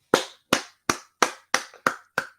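One person clapping alone: seven sharp, evenly spaced claps at a steady, unhurried rhythm, close and clear with no other sounds.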